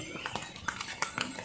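Horse hooves clip-clop in a quick, irregular series of sharp knocks on a path along the Kedarnath trek, close by, over steady background noise and a murmur of voices.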